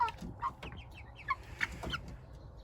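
Meat chickens cluck softly nearby in short, scattered calls, several overlapping over a quiet background.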